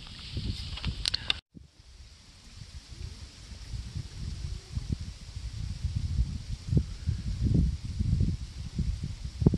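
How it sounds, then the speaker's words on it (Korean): A brief burst of rustling, then steady outdoor ambience at Hoengseong Lake with low rumbling autumn wind gusts and faint water movement, no talking. "이 가을 바람 소리와 물소리가 들릴는지 모르겠네요"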